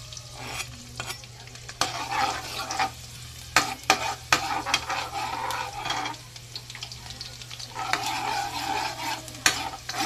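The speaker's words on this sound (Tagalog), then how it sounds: "Ayan, mainit na po ang ating mantika. Lagyan na natin ang ating bawang." Garlic crackles and sizzles in hot cooking oil while a spatula stirs and scrapes the pan in irregular bursts over a low steady hum, with no talking.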